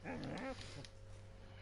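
A dog in Red Dead Redemption 2 gives a short close whimpering whine lasting about half a second, followed by a faint trailing murmur over a low steady game hum.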